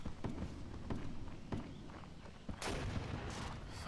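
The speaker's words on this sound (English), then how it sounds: "Fucking cannon." Cannon fire in the Mount&Blade game during a Napoleonic-era battle: repeated booming blasts at an uneven pace, with a heavier, longer roar near the end, over continuous battlefield noise.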